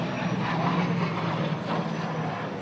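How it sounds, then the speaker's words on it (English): A P-38F Lightning vintage twin-engine fighter performing at an air show in Chino, its engine drone a steady, moderately distant roar with a faint droning tone and no talk. "P38F Glacier Girl."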